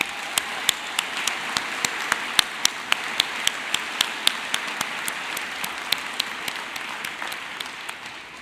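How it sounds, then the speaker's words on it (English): A commencement audience applauds steadily, many hands clapping in a dense, continuous wash with no talk, sustained at even loudness throughout. "Let's give her another round of applause."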